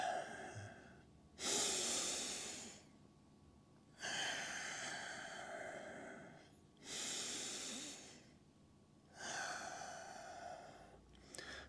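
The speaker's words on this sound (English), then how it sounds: "Couple this with my breathing." A person breathes deeply while doing a hip mobility stretch: four long, loud, forceful exhales come roughly every two and a half seconds, each followed by quieter inhaling, close to the microphone and with no talking.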